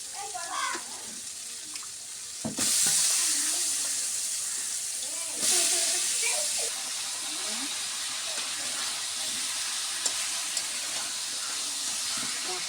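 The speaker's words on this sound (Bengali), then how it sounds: "কাঁচা কলা পটল সুন্দর করে কষে নিব" Raw banana and pointed gourd sauté in hot oil with a loud, steady sizzling hiss that surges sharply twice as the pan is stirred. A voice talks softly underneath.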